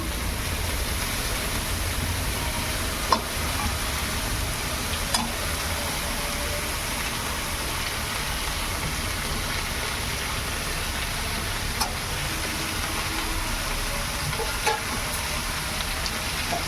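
Mustard greens fry in a pan at home, giving a steady, even sizzle and crackle that holds throughout with only a few faint clinks over the hiss.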